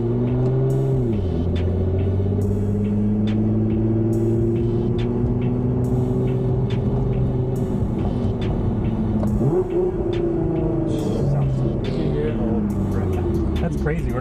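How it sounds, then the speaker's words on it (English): Nissan GT-R R35 cruising at moderate speed, a low steady engine drone with a faint turbo whine layered over road rumble, shifting pitch as the car changes gear, with occasional voices inside the cabin. "We're not even like moving that fast, and you can hear the turbos."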